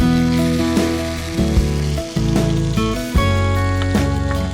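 Black cardamom and ginger paste fry in a pan, giving a loud, continuous sizzle broken by several scraping, clattering stirs of a spoon against the metal.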